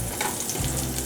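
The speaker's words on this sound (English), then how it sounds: "I'm gonna let it shallow fry for 6-7 minutes until it gets brown and crisp." Taro root (arbi) sizzles as it shallow fries in avocado oil, a close, continuous crackling hiss with no talk.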